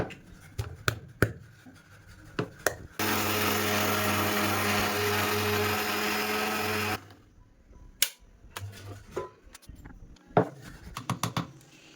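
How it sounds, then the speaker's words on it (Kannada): An electric mixer grinder whirs loudly for about four seconds as sugar is ground into powder, bracketed by clicks, taps and handling noises in a quiet kitchen. "ಸಾಕಾ ನೋಡಿ ಸಕ್ಕರೆನ ಗ್ರೈಂಡ್ ಮಾಡ್ಕೊಳ್ಳೋಣ ಈಗ"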